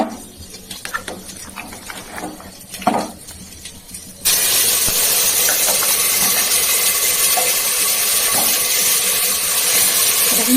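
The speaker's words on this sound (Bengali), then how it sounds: "এবারে মাংসগুলো সব দিয়ে দেবো।" Country chicken pieces tipped into a hot pan of oil with garam masala and cumin burst into a loud, steady sizzle after a few seconds of quieter kitchen sounds, then keep hissing strongly.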